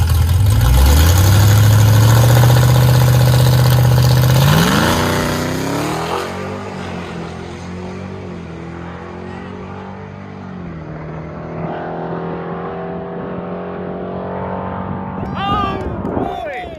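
A loud drag race car, a Cadillac CTS-V3, roars past up close, its engine pitch climbing then dropping away into a distant drone, with people talking faintly afterward.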